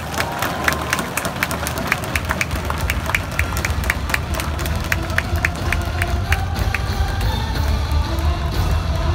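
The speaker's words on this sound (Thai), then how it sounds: "ขอเสียงปรบมือดังๆครับ" A crowd claps at a Muay Thai belt ceremony in a Bangkok fight arena, sharp hand claps ringing out over a broad, steady murmur of cheering that carries on throughout.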